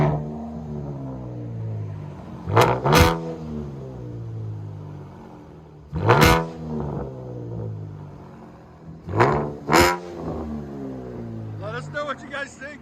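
A 2015 Chevy Camaro V6 with true dual straight-pipe exhaust, 5-inch tips and four catalytic converters rumbles at a deep, steady idle, broken by three sharp, loud revs that crack and fall back.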